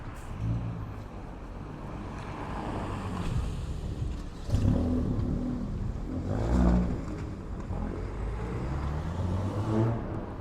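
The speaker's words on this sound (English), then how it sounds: "there's a car here" A car drives past on a town road at night in Grange-over-Sands, its engine rising and falling in waves at close range with a steady rumble underneath.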